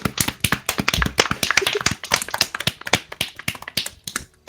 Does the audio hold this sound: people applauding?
yes